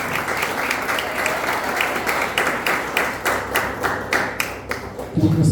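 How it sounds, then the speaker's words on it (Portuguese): A church congregation at a conference applauds together, a dense, steady wash of many hands clapping with a faint murmur of voices underneath, swelling slightly toward the end. "Aplauda o nome de Jesus."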